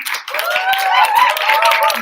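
Audience applause at an AIESEC Greece election event, a steady wash of clapping with some cheering voices and whistle-like tones running throughout for about two seconds.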